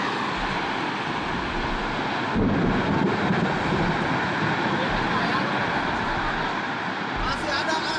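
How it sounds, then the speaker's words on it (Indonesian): Strong tornado wind roars continuously, buffeting the microphone in a dense, rumbling blast that barely lets up throughout. "Angin puting beliung di Kahatek."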